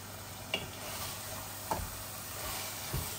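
Minced chicken bhuna frying in a pan with tomato, a constant soft sizzle broken by three sharp spatula scrapes and stirs spaced about a second apart.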